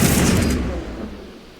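A single heavy blast from a space-age shotgun in Mass Effect booms loudly at the start and then rolls away into a fading rumble.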